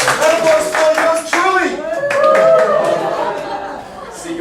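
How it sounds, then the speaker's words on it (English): Classroom audience at a teaching workshop clapping in short bursts while people chatter and chuckle over the applause, close and lively throughout. "Round of applause for me, Jay."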